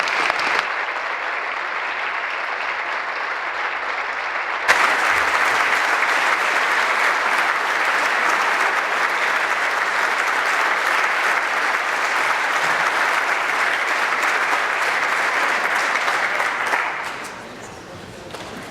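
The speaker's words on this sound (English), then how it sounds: "a round of applause to Bette Stephenson's loved ones." Members of a legislative chamber applauding during a tribute, sustained broad clapping that swells, holds loud and steady for over ten seconds, then fades away.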